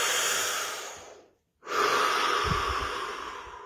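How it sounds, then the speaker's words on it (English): Deep breathing during a stillness meditation, close and loud: a long airy exhale, a brief silent pause, then a strong, slow inhale that fades away. "Take a deep breath"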